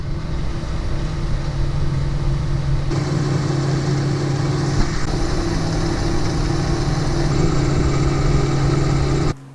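An aluminium dolly is machined down to size on a lathe for a Volvo Penta seal replacement, giving a steady, close motor drone with a low hum that runs unbroken and cuts off abruptly at the end.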